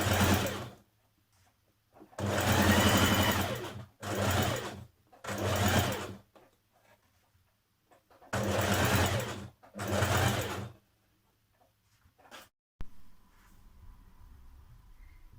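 A domestic sewing machine stitches a dress seam in several bursts of rapid whirring, each lasting about a second or two and separated by short pauses, close and clear with no talking.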